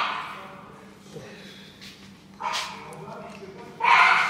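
A small dog barks in two short, sharp bursts that are moderately loud and close, set against a quiet, faintly noisy background.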